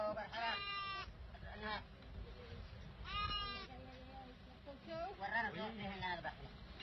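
Sheep and goats bleating in short wavering bursts, several calls spread over a few seconds, at a rural wedding feast where the animals will be slaughtered, heard under a narrator's voice.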